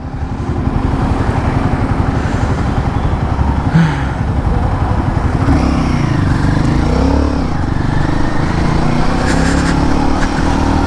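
A Royal Enfield Guerrilla 450 motorcycle engine drones steadily and loudly throughout, close by, with another motorcycle passing from the opposite direction, rising and fading midway.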